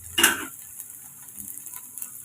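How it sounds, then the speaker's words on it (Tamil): Onions and chopped beans hitting hot oil in a pan, a sharp loud sizzle at the start that quickly settles into a faint, steady frying hiss with light scattered clicks. "எண்ணெய் சூடானதும் வெங்காயம் சேர்த்துக்கோங்க."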